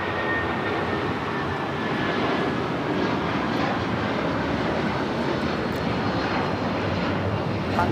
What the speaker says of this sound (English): It's United Airlines 1260 taking off to Denver on the 757-300.